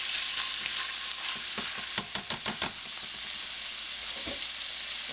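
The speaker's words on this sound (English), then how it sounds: "We heat our oil in our fry pan. And we get in our pork. Start cooking that." Ground pork frying in hot oil in a fry pan, a steady loud sizzle with stirring scrapes and clinks layered on top, no voices.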